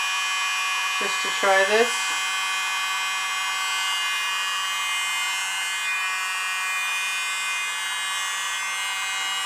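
A tiny electric blower runs over an acrylic paint pour with a constant close, buzzing motor whine. A brief spoken phrase near the start sits over the hum.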